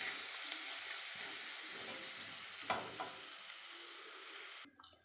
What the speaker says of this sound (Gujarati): ડુંગળી ટ્રાન્સપરન્ટ થાય ત્યાં સુધી એને થવા દઈએ.